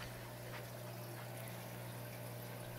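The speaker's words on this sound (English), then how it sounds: "Got the AquaClear 110 still running." An AquaClear 110 hang-on filter runs on an aquarium sump, giving a soft steady trickle of water over a low constant pump hum, faint and unbroken with no talking.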